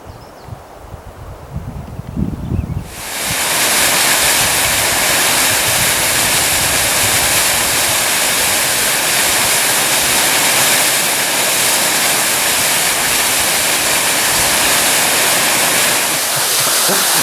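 A mountain waterfall roars loud and steady after a short quieter stretch of outdoor sound, a dense broadband wash of falling water that holds constant to the end, with no voices.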